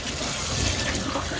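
Tap water runs steadily and close over frozen food in a kitchen sink to defrost it, a dense, even rush of splashing with no voices.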